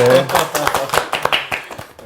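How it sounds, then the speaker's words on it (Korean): A small group at a Korean family worship gathering claps together in a brief burst of sharp, irregular hand claps, close by, with voices heard over the clapping. "박수 한번 칠까요?"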